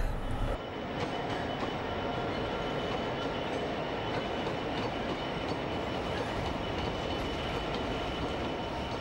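A train rolls past on a railway near the downhill approach into Bristol, a steady loud rumble of wheels and carriages running continuously throughout with no break in the sound.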